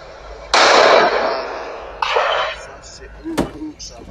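Gunshots fired into the air by soldiers, played back from a video: a loud burst of blasts, a second shorter burst, then a single sharp crack, all fairly close and harsh.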